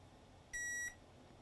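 Multimeter in continuity mode gives one steady electronic beep of about a third of a second while probing a Land Rover key fob circuit, sounding clear over a quiet background.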